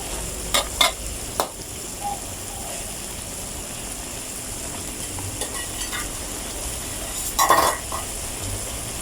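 Large Phuket fish balls are stir-fried in a spicy sauce in a pan, giving a steady close sizzle under repeated stirring and a few sharp utensil scrapes against the pan.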